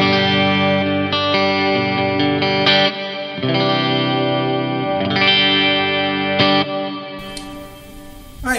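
Electric guitar through a Walrus Audio Fathom reverb pedal set with more decay plays sustained, chorded notes that bloom and wash into long lingering tails, loud and close, with a final chord ringing out and fading.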